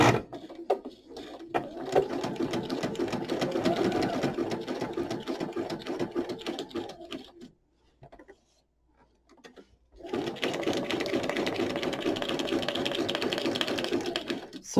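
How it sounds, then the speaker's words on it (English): A sewing machine runs a zigzag stitch around paper for a junk journal page, whirring in a rapid mechanical rhythm through two long bursts separated by a brief silent pause. "I'm just going to do simple zigzag stitch just around it"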